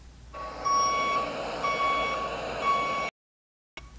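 Reversing beeps from a Brinks armored truck, a steady repeating electronic tone pattern over a broad engine and street rumble, loud and close, cutting off abruptly near the end.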